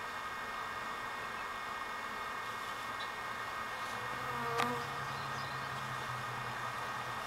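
A honeybee swarm near a hive fills the air with a dense, steady buzzing drone at moderate level, one louder bee passing close for a moment midway.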